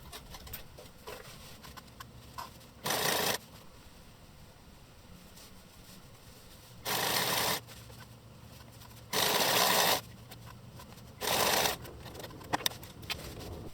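A sewing machine stitches along the folded seam edge of a pair of boxer shorts, running in four short, loud bursts separated by quieter handling of the fabric.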